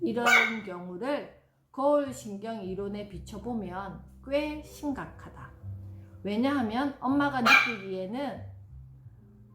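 A pet puppy barks and whimpers in short bursts while it searches for a family member who went out to play, heard intermittently beneath a woman reading aloud indoors.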